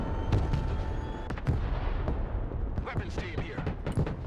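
A cruise missile strike lands in a military video game with repeated booming impacts and gunfire-like cracks over a constant rumble, while voices talk throughout.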